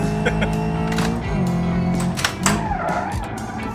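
A car drifting in the video game BeamNG.drive, its tires squealing and skidding in long sliding streaks over a steady engine drone, with brief knocks and scrapes along the way.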